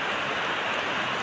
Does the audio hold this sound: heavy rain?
yes